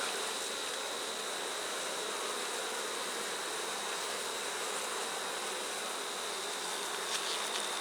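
Honeybees in a hive box holding a queen, buzzing in a dense, unbroken drone close by, with a thin steady whine riding above the swarm and no speech.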